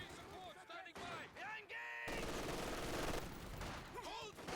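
An MG42 machine gun in a Company of Heroes 2 one-versus-one match fires in quiet, rattling bursts of gunfire under a commentator's steady talk.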